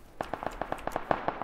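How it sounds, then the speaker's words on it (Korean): Rapid gunfire in the battle royale game PUBG, a burst of about a dozen sharp evenly spaced shots, fairly faint and distant-sounding, with no talk over it. "총소리"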